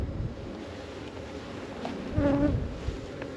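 Honeybees hum and buzz around a backyard hive, a close, droning swarm with one bee passing loudly near the microphone amid light wind noise.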